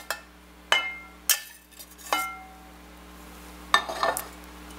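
Ground beef being scooped out of a skillet while the fat drains off, a few sharp metal clinks of a utensil against the pan over a faint sizzle, close and sparse with quiet gaps between.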